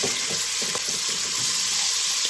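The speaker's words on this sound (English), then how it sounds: "We'll put it right in here to saute. We're sauteing this onion" A large yellow onion sautés in hot bacon grease, giving a steady, close sizzle with soft crackles and a few stirring knocks throughout.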